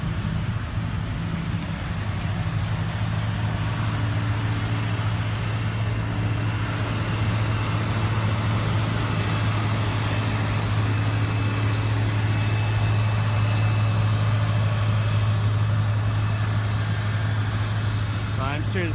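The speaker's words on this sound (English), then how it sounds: "Tractors are coming back." Tractors drive on a sand drag racing track, a steady low engine drone that hums continuously at moderate distance while a commentator talks over it.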